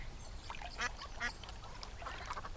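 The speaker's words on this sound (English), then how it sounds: "The ducks were swimming happily." Cartoon ducks quack repeatedly in a Thomas & Friends scene as they swim near a railway track, giving several short nasal calls over a steady low background.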